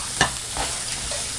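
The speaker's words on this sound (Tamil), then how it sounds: "இது நல்லா பொன்னிறமாக வதக்கிக்கலாம்." Chopped onions sautéing in hot oil with curry leaves and chillies, a steady sizzle broken by a sharp scrape of the stirring spoon near the start and softer stirs after.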